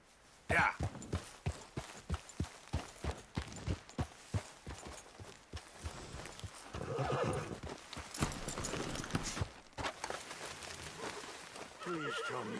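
A horse in Red Dead Redemption 2 gallops with rapid, rhythmic hoofbeats, then slows into a looser clatter with a neigh and some rustling, fairly loud and close.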